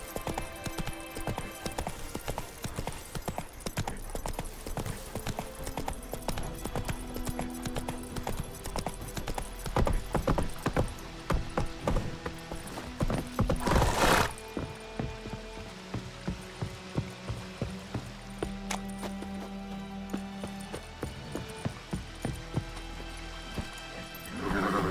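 Roach, a horse in The Witcher 3: Wild Hunt, galloping with steady rhythmic hoofbeats throughout, loud and close, with a brief burst of louder noise midway and occasional low voices in the background.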